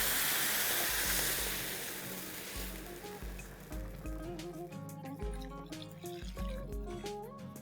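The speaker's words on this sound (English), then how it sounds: "The next is to add in water, and this is 2 times the quantity of dal and rice." Water is poured into a pot of dal, rice and vegetables for traditional Bengali khichuri, a gushing pour that fades after a few seconds as music takes over.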